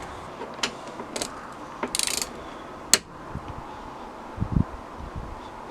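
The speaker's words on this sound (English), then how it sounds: "I'm going to just put the seat belt bolt back in place. Give that a wee tighten." A ratchet tightening a seat belt bolt in a campervan conversion, heard as a few short clicking bursts with a metallic knock, sparse and close in a quiet space.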